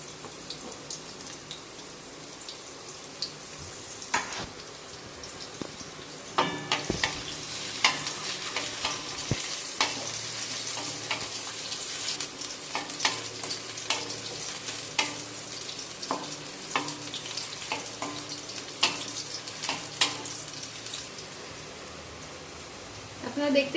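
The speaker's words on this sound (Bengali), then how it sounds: "আপনারা দেখতেই পাচ্ছেন করলাগুলো মোটামুটি ভাজা হয়ে গেছে।" Bitter gourd pieces sizzle in oil in a pan for a Bengali shukto, with a constant crackling hiss broken by frequent clattering scrapes and knocks as they are stirred, close by, while a voice speaks intermittently.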